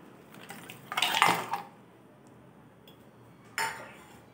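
Ice cubes clatter into a blender jar of palm fruit sherbet, a short bright rattling burst followed a couple of seconds later by a second, briefer clink, with quiet room tone between.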